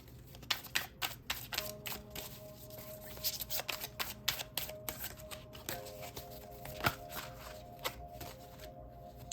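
Oracle deck being shuffled by hand at a tarot reading, a run of soft rapid card riffles and flicks with irregular rhythm, close and fairly quiet, no voice over it.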